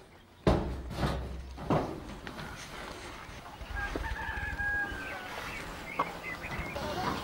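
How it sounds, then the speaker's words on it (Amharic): Day-old chicks in a poultry house give faint, thin peeps amid a busy hiss of background noise, with a few sharp knocks and thuds scattered through. "ዶሮቹ የአንድ ቀን ጫጩት ናቸው።"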